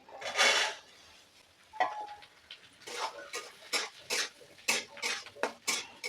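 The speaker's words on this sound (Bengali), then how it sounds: "এখন আলুগুলো দিয়ে ভালো করে নাড়িয়ে চাড়িয়ে ভেজে নেব" Potatoes are being stirred into half-fried onions in a pan, with a run of scraping, clattering spatula strokes against the pan in quick irregular bursts, close by and with no talk.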